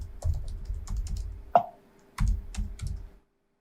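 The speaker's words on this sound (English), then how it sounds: "Excuse my typing." Typing on a computer keyboard comes in two quick bursts of close, crisp key clicks separated by a short pause, with a single louder tap in between.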